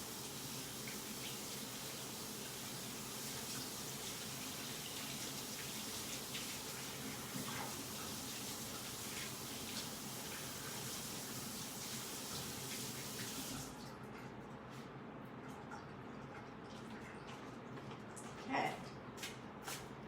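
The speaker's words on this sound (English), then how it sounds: "I'm going to run to my sink real quick and just rinse it off." Water runs steadily from a sink tap while a craft stencil is rinsed. The close, constant rush cuts off about two-thirds of the way through, leaving faint handling noises.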